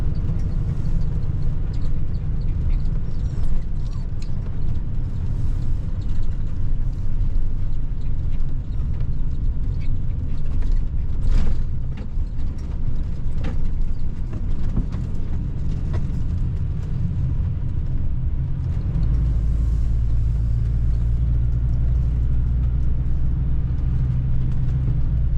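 An RV rolls slowly around a grassy campground, its engine giving a continuous low rumble, with tires crunching over the ground and occasional knocks; no talking is heard.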